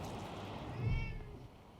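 A cat in the video game Wasteland 3 gives a single short meow, close and clear over a low background hum, with no speech.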